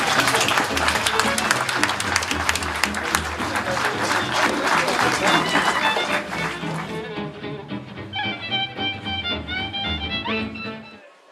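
Loud, dense applause at an anniversary celebration for a mutual insurance society, with crowd noise throughout, thinning after about seven seconds into scattered claps and voices before fading out.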